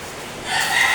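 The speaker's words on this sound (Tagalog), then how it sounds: "Mga panabong na manok yun." A gamecock rooster crows once, a short strained call rising out of quiet outdoor background.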